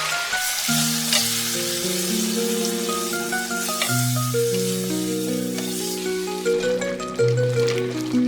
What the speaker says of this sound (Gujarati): આપણું સબ્જી જે આપણે મેરિનેટ કર્યું હતું એ લઈએ. બધાને સરસ ફેરવી દઈએ.